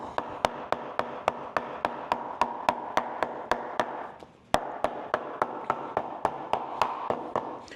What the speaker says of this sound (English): I have a flat-faced hammer here with kind of a large face, and I'm going to beat it down